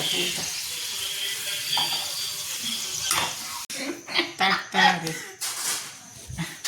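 Food sizzles steadily in a hot pan while dal tadka is being cooked, a soft continuous hiss that later gives way to clattering utensils and nearby voices.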